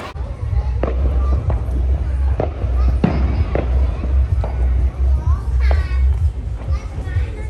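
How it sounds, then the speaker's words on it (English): Bonfire Night fireworks display in England, with repeated sharp bangs and crackling bursts at irregular intervals, some whistling, over a continuous murmur of a crowd outdoors. "Enjoy the fireworks."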